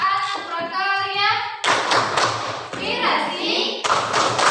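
A class of children claps a rhythmic chant, mixing loud, sharp claps with thuds of hands on desks in quick patterns. Children's voices chant over the clapping throughout.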